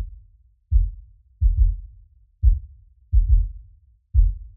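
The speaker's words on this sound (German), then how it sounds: "Also, Herzschlag, los geht's." Heartbeat sound effect played back in Logic Pro X during a Dolby Atmos mixing session, six deep, muffled thumps at an even pulse, each a soft double beat, loud and alone.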